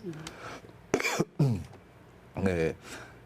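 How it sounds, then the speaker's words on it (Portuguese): A short, rough cough bursts out between stretches of someone speaking, followed by more talk. "eu tossi agora, coloquei a mão"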